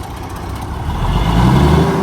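A Paystar truck engine rising from idle as the gas is pressed, a deep diesel rumble building in loudness over a couple of seconds, close and steady with no talking.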